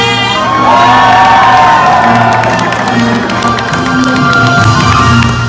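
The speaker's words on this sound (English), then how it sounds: "When I say action, I need you to scream and cheer as loud as you can for Clover." A studio audience at an animal actors show screams and cheers for Clover the dog, a loud close roar of shouting voices, children's shrieks and whoops that swells and holds steady.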